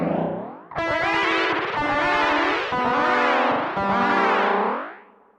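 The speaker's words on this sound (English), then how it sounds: "It's like 50 sci-fi soundtrack noises." Electric guitar through the T-Trip effect on a Zoom GFX 707 multi-effects unit gives loud, sweeping sci-fi tones in four long swelling phrases that glide in pitch, ending in a fading tail.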